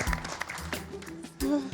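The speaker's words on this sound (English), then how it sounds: "give yourselves a big round of applause" Applause from contestants and crew on a miniature-building competition show: a brief burst of clapping mixed with voices and cheering, rising again sharply near the end.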